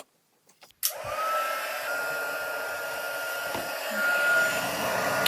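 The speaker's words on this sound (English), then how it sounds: "So then we're just going to take our heat gun." A heat gun switches on with a click and runs as a steady, loud whooshing blower, melting embossing powder on card stock for a papercraft project; the airflow holds constant with a slight rise near the end, and no one speaks.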